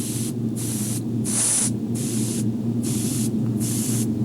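Airbrush gun spraying paint onto a largemouth bass mount, a steady hissing spray that cuts in and out in regular bursts roughly every half second over a constant low compressor hum.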